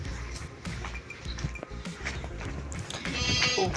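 A goat bleats among other animal sounds, set against steady outdoor background noise, with a louder, rougher stretch of the call near the end.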